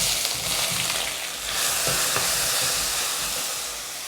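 Pineapple cubes frying in a pan over a low flame, a dense, continuous sizzle with soft stirring, close and even, no talking.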